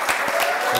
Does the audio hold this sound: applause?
yes